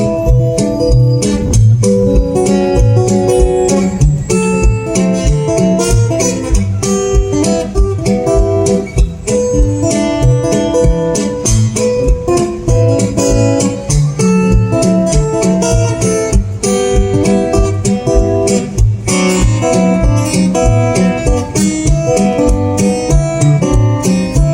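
Solo acoustic guitar fingerpicked, with a steady alternating bass under a busy melody line. Loud, close and continuous, with no talking.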